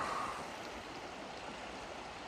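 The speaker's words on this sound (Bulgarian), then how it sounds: "Чува се и от двете страни как минава много бурно, много силно реката." The Maritsa river rushing strongly past an island, a steady broadband roar of fast-flowing water that is continuous and fairly close.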